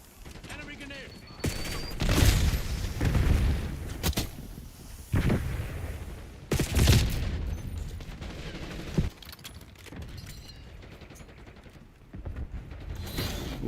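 Enemy grenade and gunfire in Call of Duty Black Ops 6: bursts of rifle fire and several loud explosive blasts spread unevenly through a busy battle, with voices calling out between them.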